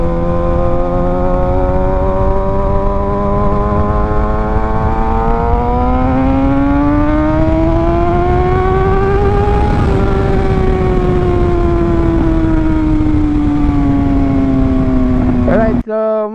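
A 2025 Kawasaki Z900 motorcycle engine revs in one long, loud, smooth pull, its droning tone climbing steadily, then easing slightly before cutting off abruptly at the end.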